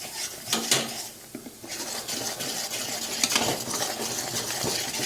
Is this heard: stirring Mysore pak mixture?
yes